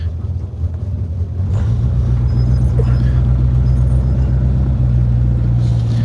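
A Renault car that is breaking down and pulling poorly drives slowly in first gear around a private car park, its engine a steady low rumble that swells after the first second and holds, heard from inside.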